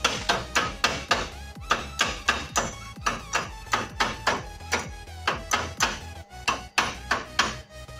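Hammer blows chip welding flux off a weld during an engine swap of a Toyota 1NZ-FE onto a Lada 2105 gearbox, about twenty sharp metallic taps in a quick, steady rhythm, each with a short ringing decay, close and alone.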